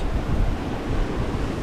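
Strong sea waves roll in at the Farsea Beach Villas resort in Laguindingan, a loud continuous surf wash with wind buffeting the microphone and no talking.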